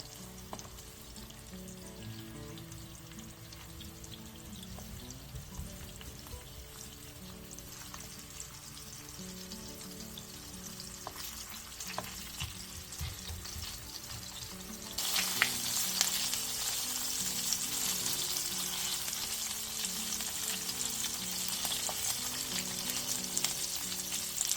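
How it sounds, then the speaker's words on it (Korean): Steady sizzling of meatballs frying in oil in a pan over the lowest heat, crackling close by for a long stretch, growing louder and brighter partway through, with occasional stirring noises and no speech. "팬에 기름을 두른 뒤 미트볼을 올려 제일 약불에서 굴려가면서 익혀주세요"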